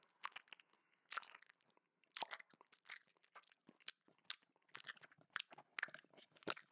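Imitated chewing of food, a voice making wet, crunchy mouth noises in dense irregular bursts, close and fairly quiet, with no talking.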